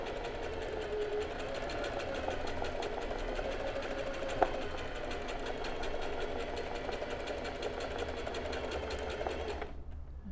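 A sewing machine embroiders with a straight stitch, running in a steady rapid mechanical hum and patter at close range, fairly quiet, stopping near the end.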